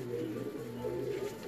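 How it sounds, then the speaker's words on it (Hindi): Soft, low cooing of a golden pigeon in a steady rhythmic murmur, close by, with a faint background hum. "गोल्डन कबूतर है"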